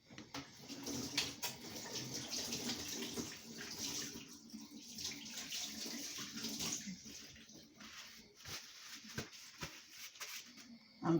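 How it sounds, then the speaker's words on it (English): Running tap water splashes steadily as hands are washed at a kitchen sink during Jamaican chicken soup preparation, a continuous moderate hiss with light rubbing, close by and without speech. "I'm just going to wash my hands."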